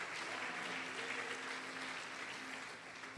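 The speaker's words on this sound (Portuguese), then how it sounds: "Pode aplaudir, glorificar." A church congregation applauds steadily during a sermon, dense even clapping filling the room at a constant level from start to finish.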